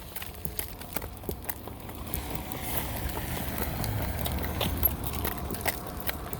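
Steady clip-clop of a horse pulling a buggy, hooves walking on pavement, moderately distant, with a faint background hum and occasional louder knocks.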